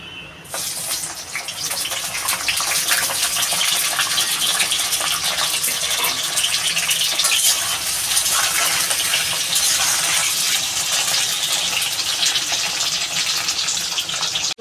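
Banana and eggplant frying in oil in a kadai give off a steady, loud, dense crackling sizzle that holds on without a break from start to end.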